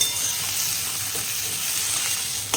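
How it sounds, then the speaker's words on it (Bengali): Fried potato filling with chopped coriander leaves sizzles in a pan in a steady close hiss, ending with a single scrape of stirring. "এখন এই ধনে পাতা দিয়ে একটু নাড়াচাড়া করবো"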